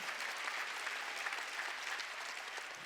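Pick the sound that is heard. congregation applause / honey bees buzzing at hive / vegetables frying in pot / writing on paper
congregation applause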